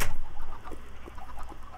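Chickens cluck in a Minecraft farm, a steady stream of short game-style clucks and squawks close by over a low background hum, with no talking.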